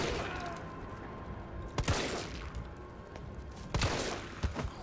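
Several separate gunshots fired in the Resident Evil 3 Remake video game, spaced a couple of seconds apart with one quick double shot near the end, over a low ambient game background.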